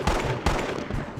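Two sharp, close gunshots about half a second apart ring out in the CTU Marine Sharpshooter video game, each followed by a short echoing tail.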